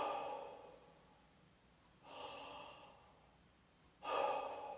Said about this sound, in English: go ahead and take a big deep breath in